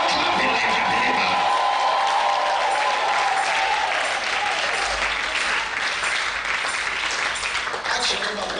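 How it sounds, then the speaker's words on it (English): Congregation clapping and cheering at an evening church crossover service, a dense, loud, sustained wash of applause with crowd voices mixed in, steady throughout. "Clap your hands and make a joyful noise."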